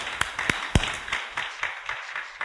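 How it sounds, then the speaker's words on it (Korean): Worshippers in a church clap together during an early-morning service, a scattered mix of sharp individual claps over a softer wash of applause from a modest crowd. "우리 하나님 앞에 할렐루야로 감사의 박수를 올려드려야 됩니다"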